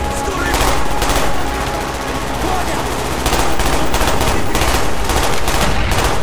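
Rapid automatic gunfire in a Call of Duty: Black Ops firefight, loud sustained bursts of machine-gun shots close by with brief lulls, layered over battlefield noise.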